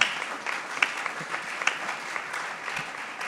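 A church congregation applauds, a steady wash of many hands clapping with a few sharper claps standing out, no speech over it.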